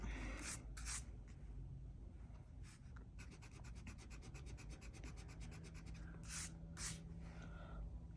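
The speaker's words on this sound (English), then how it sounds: "So you can basically just, using friction, erase what you wrote." A Pilot FriXion highlighter's rubber tip rubs back and forth over paper to erase its ink, giving soft, close scratchy strokes that speed into a quick rhythmic series midway, with no talking.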